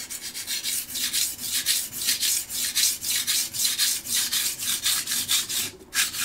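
A knife is sharpened on a Shapton Pro whetstone in short, rapid back-and-forth strokes, each a close, gritty rasp, about three per second in steady rhythm with a brief pause near the end.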